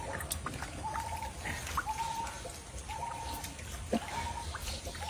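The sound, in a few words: water splashing while washing something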